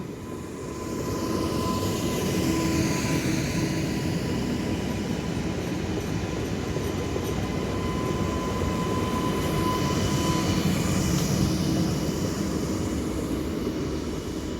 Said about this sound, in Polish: pociąg do Wisły